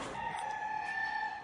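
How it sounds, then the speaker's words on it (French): A rooster crows once at dawn in Midelt, Morocco, a single sustained call, fairly distant and faint, with no talk. "Il y a le coq qui chante pour nous accueillir."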